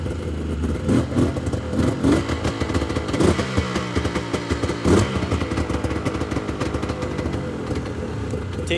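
A Yamaha Vmax 700 triple engine idles close up with the choke on, just after a pull start, giving a steady loud running note with uneven popping and no talk over it.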